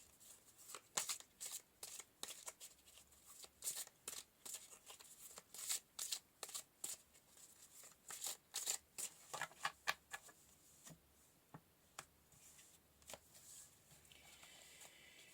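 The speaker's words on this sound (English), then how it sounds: "I'm going to just pull 3 more cards to round the reading out." Tarot cards shuffled by hand, a quick run of crisp riffling slaps in uneven bursts, close and fairly quiet, with no talking.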